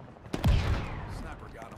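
A sniper rifle fires in a Halo custom game, one sharp crack followed by a booming report that rings out, with a voice talking over the gameplay.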